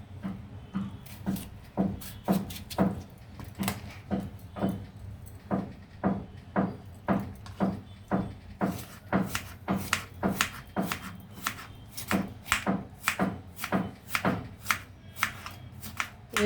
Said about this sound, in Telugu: ఈ విధంగా చిన్న ముక్కలు కట్ చేసుకోవాలన్నమాట కీరాదోస